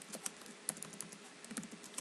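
Quick, light plastic key presses tapped out on a calculator keypad, a dozen or so irregular clicks close by and faint, with no voices.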